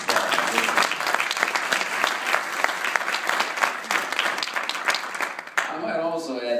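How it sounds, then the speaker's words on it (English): Audience at a press event in Brookings breaking into sustained applause, dense steady clapping for several seconds before it cuts to a speaking voice at the end. "I think that deserves a round of applause"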